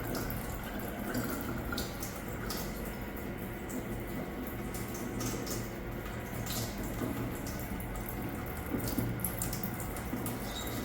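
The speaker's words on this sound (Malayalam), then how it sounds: "ഇവിടെ ഇങ്ങനെ ചവിട്ടുമ്പോൾ വെള്ളം വരുന്നത് ഇതുവഴിയാണ്" Water runs quietly from a foot-pedal wash basin at the Expo 2020 site, a faint steady trickle with light splashing and drips, with no talk.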